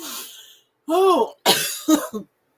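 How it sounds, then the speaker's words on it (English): A woman gives several harsh, throaty coughs in quick succession, close and fairly loud, with a voiced hack preceding the sharper bursts. "Now I'm coughing."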